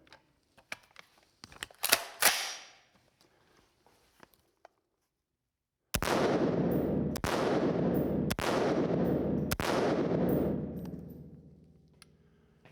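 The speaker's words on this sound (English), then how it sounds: "I'm going to shoot this Scar anyway." Several loud, sharp gunshots from a Scar 17 rifle fire in a steady series about a second apart, each trailing into a long ringing echo across an outdoor range. Quieter clicks and handling noises come before them.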